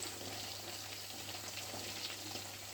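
Lechon kawali, chunks of pork deep-frying in oil, sizzles with a steady, dense crackle close by, alone without talk.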